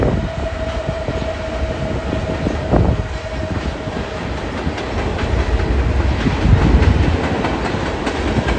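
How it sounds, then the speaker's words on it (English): A long freight train pulled by two locomotives rolls past a rail fan in Burlington, Ontario, a loud, close, continuous rumble with clattering wheels over the track and a brief squeal, with no talk. "All that, and it's only been pulled by two locomotives."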